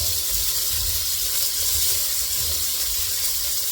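Onions fry in oil in a skillet, giving a dense, loud, continuous sizzle and hiss that holds steady without pause.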